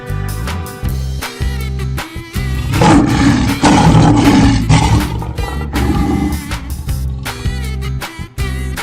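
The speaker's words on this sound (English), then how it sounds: "lion," A lion roars in a long, loud, rumbling bout that swells in the middle, with music playing throughout.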